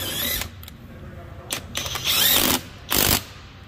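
A TopShak 21V half-inch drive electric impact wrench works on swollen truck lug nuts, firing in several short, loud buzzing bursts separated by pauses, close up and without talk.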